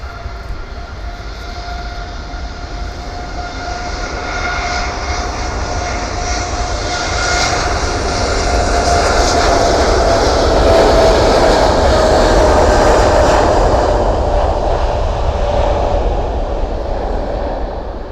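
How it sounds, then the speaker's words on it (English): A Boeing 787-8 Dreamliner departs from Manchester with a loud, broad jet roar that builds steadily as it takes off, heard from a distance with a sustained whine over the rumble. "here we go with the Dreamliner 800 departure"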